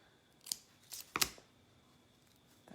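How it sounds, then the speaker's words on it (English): Small ribbon scissors snip a few times during crafting: three or four crisp, close snips in quick succession, then near-silence with a faint click at the end. "My little ribbon scissors."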